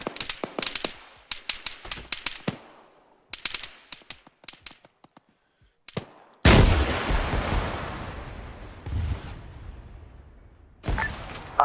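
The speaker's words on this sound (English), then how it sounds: "now I'm taking fire" Gunfire in the military video game Arma 3: rapid bursts of shots separated by short pauses, then a heavy, booming blast with a long rumbling decay, followed by more shots.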